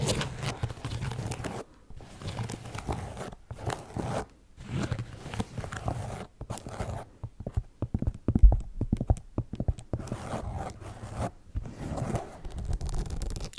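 Fingers scratch across a shoe's slightly raised 3D logo and textured sole, giving close, dry, bursty rasping strokes separated by short pauses, with occasional light taps standing alone.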